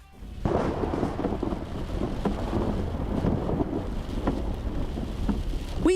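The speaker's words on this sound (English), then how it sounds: "the skies darken ominously, the winds pick up, and the rain starts coming down in sheets" A thunderstorm with heavy rain and wind, a dense, loud roar of downpour with gusty rumble throughout and a few sharper cracks rising out of the wash.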